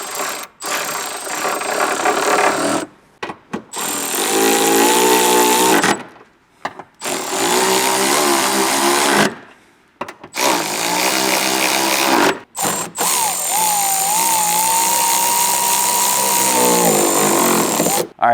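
Repeated bursts from a power tool tightening a coupler clamp bolt on a Toyota 4Runner intake snorkel in the engine bay, loud whirring runs of a few seconds separated by short pauses.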